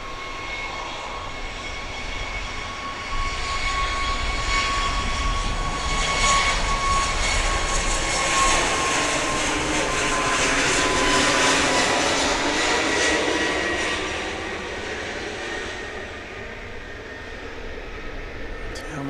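A jet airplane taking off from Grand Cayman airport roars steadily, swelling louder through the middle as it powers up and departs, then fading slightly, heard from a distance outdoors.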